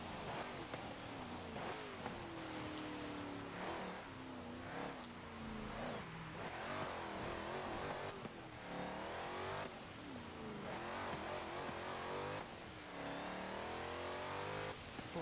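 A 2012 Jeep Wrangler Rubicon in Forza Motorsport 7 accelerates hard, its engine revving up through repeated gear changes, each climb cut by a brief dip, loud and close with a rough mid-range growl.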